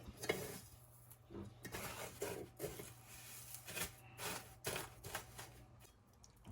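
Pierogies coated in breadcrumbs fry in a pan, giving a steady low sizzle with bursts of scraping and stirring at irregular intervals, close and moderately loud, no voices.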